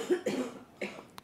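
Several short coughs during a yoga posture after deep breathing, in two close bursts of three or so, each loud and near, followed by a faint brief click.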